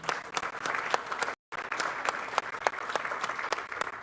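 An audience applauds at a speech during a first responders center groundbreaking, with steady clapping punctuated by sharper claps, then a brief dropout in the middle before the applause carries on.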